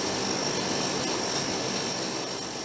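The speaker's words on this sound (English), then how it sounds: "The propellers on the right wing, engine numbers 3 and 4, initiate the starting sequence" C-130 turboprop engines spinning up during start on the ground, a loud, continuous high-pitched turbine whine with propeller roar, steady and close with no talk.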